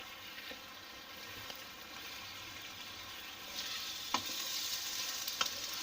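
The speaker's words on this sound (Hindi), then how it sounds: "ये हड्डी वाला कीमा था मेरे पास आधा किलो। कीमे की अच्छी तरह भुनाई कर लेंगे।" Bone-in minced meat keema frying with spices in a pan, a steady soft sizzle with occasional stirring scrapes and clinks, fairly quiet and continuous with no voices.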